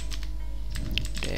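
Typing on a computer keyboard while setting up a text layer in After Effects: a quick run of close, crisp key clicks in an uneven rhythm, with a slightly denser flurry toward the end and no talking.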